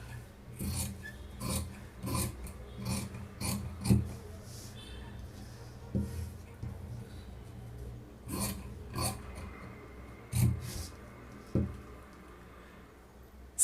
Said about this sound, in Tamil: இப்போ நம்ம வந்து கட் பண்ணிக்கலாம்.